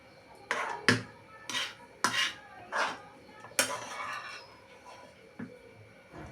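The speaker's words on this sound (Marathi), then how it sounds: "आपला जो भात आहे ना तो ह्या डिश मध्ये काढूया" A spoon or ladle scraping and knocking as cooked lemon rice is served from a pot into a dish: a string of sharp metallic clinks and scrapes, close and fairly quiet, with short gaps between strokes.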